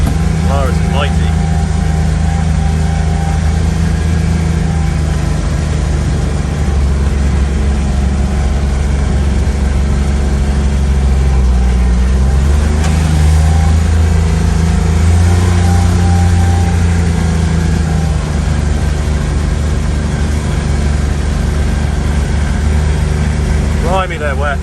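A Polaris utility vehicle's engine drones steadily as it drives through a soaked farm field. The loud, unbroken motor hum fills the whole stretch, with slight shifts in pitch as it pushes through the wet ground.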